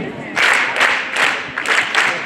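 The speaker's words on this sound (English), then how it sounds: "That rhythm that we're clapping is the main rhythm that the next class is going to be performing for you." A group in a history class drum show claps a rhythm together, with several loud, fast bursts of clapping in a repeating pattern, close and fairly full.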